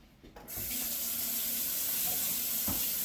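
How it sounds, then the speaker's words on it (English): Tap water running into a kitchen sink while hands are washed. After a brief quiet start it turns on and becomes a steady, close, full rush of water with small splashes, alone without talk. "washing my hands"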